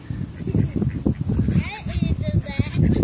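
Ducks quack repeatedly at close range while being fed bread beside the water, a lively overlapping chorus of calls that carries on throughout.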